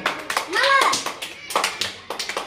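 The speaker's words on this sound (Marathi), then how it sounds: "टाळ्या वाजवा" Young children clap their hands during a preschool readiness game in a Maharashtra classroom. Bursts of uneven claps come between an adult's instructions and kids' voices, loud and close, with a quick patter of taps near the end.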